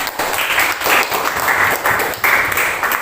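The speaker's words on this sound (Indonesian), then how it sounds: "Bagi aplaus dulu untuk temannya." A classroom of students applauding a classmate, brisk steady clapping from many hands in pulsing waves, fairly loud and close, with no talk over it.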